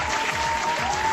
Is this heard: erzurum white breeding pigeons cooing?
no